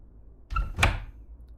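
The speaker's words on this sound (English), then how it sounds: "The door is open." A door in the Doki Doki Afterimage video game opens with one short, fairly close clunk and swish, set against near silence.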